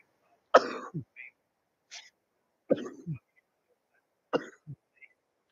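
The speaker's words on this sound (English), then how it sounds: "I got a cough in your ear." A person coughs in several separate bursts, close and fairly loud, with short quiet gaps and small throat sounds between them, against an otherwise silent background.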